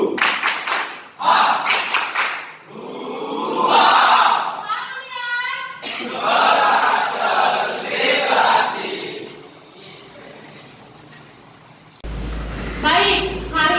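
A class of children claps in quick rhythmic bursts and chants along during a classroom clapping cheer, their voices loud and close, with an adult voice speaking in between.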